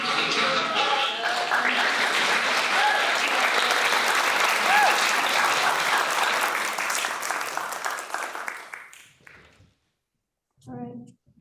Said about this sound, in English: Everyone give our professors a round of applause.